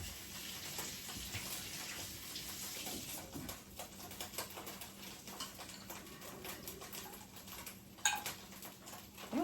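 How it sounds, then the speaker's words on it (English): Running tap water splashes over hands at a kitchen sink, a steady broadband wash lasting throughout with small clinks and patters near the end, close and moderately loud. "I need to wash my hands."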